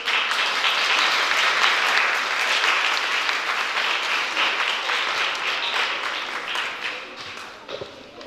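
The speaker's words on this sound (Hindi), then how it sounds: "उन लोग के लिए बहुत अच्छी ताली बजाइए" A crowd of children claps for performers on a stage at a traditional theatre programme, a loud sustained burst of applause that thins and tapers toward the end with a few scattered late claps.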